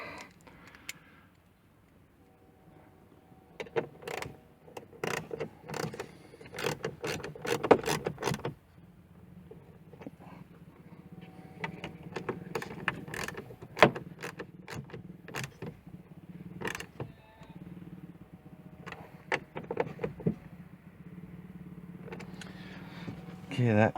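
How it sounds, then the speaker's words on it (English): A wrench tightens a nut while a headlight switch knob is refitted on a 2000 Mustang GT 4.6 with a five-speed manual. Close, irregular bursts of metallic clicking and ratcheting come in several clusters, with quiet handling noise between them. "Wrench on it."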